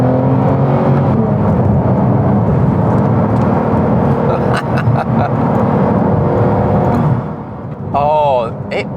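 A Porsche 911 GT3 Touring engine hums steadily while driving at about 30 mph in second gear on a rough road, a continuous low drone with road noise and talk over it.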